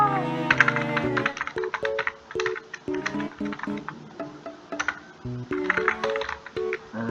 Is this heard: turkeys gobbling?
no